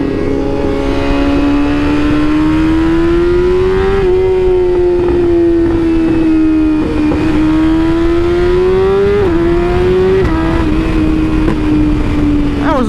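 A BMW S1000RR sportbike with a pops-and-bangs exhaust, ridden at night, drones loud and close with its engine pitch rising and easing through several revs over continuous wind and road roar.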